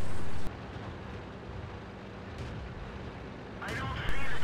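Tank gun firing in the video game World of Tanks on the Siegfried Line map, a heavy booming blast with a low rumbling tail under steady battle noise.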